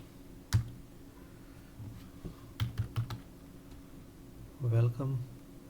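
Text being typed on a computer keyboard during a Figma design tutorial, with a few sparse, close key clicks in short clusters and a brief voice near the end.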